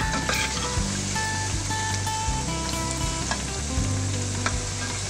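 Spinach and kale pakoras with onions and herbs fry in hot oil over medium heat, giving a steady, close, busy sizzle with crackling pops throughout.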